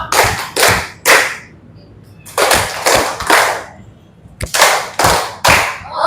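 A school class doing a thumb-clap cheer, with sharp, loud claps in three rhythmic groups of three to four beats separated by short pauses, close and clear with no talk.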